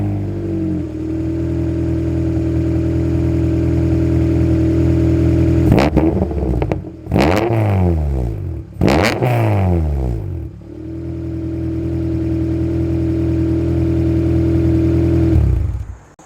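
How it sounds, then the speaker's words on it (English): A car's engine idles loudly with an open exhaust, then is blipped in three sharp revving bursts that rise and fall, before settling back to a steady rumbling idle and cutting off at the end. "How about we start the car so you could hear the exhaust"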